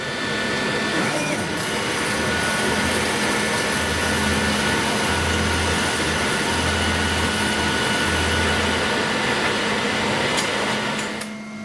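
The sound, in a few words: laser cutter cutting jigsaw puzzle with air extraction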